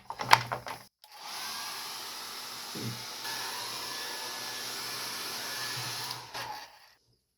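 A hair dryer blowing on a watercolour painting runs as a steady airy whir for about five seconds after a few brief knocks, fairly close and alone, then switches off.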